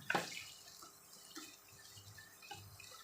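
A quick splash of water poured into a pan of pork and Chinese kale stir-fry, followed by faint drips and soft liquid sounds; quiet overall.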